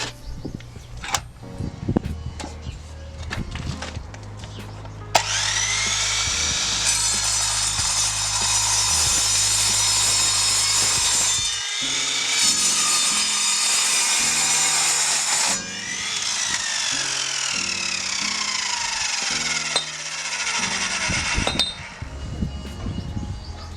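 An Evolution compound mitre saw slices through thick-walled steel tubing, a loud sustained screeching cut with a rising metallic whine that runs for several seconds, pauses briefly, then continues, after an opening stretch of idle motor hum.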